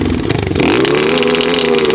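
Dirt bike engine held on a two-step rev limiter, a loud close sputtering roar that climbs in pitch and then holds a steady high drone.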